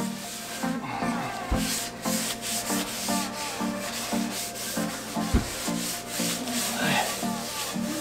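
Oil rubbed onto cast iron cookware being restored, close repeated rhythmic rubbing and scrubbing strokes, steady and fairly loud with occasional knocks.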